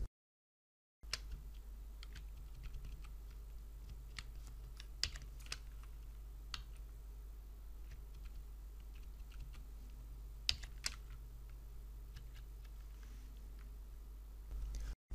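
Keys on a computer keyboard tap in quick irregular bursts, with occasional louder key presses standing out, close and quiet against a low steady background hum, with no voices.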